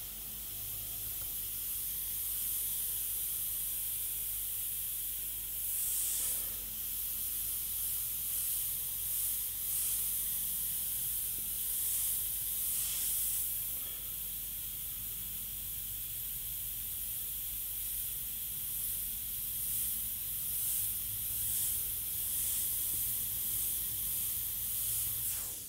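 A Sagola airbrush sprays paint while cleaning up overspray on a Jack-o'-lantern design, producing a steady, close hiss that runs almost unbroken, with a few brief louder bursts and no talking.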